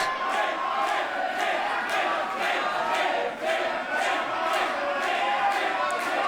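A hostile crowd at a professional wrestling show fills the arena with loud, continuous chanting and shouting, with rhythmic bursts of jeering throughout.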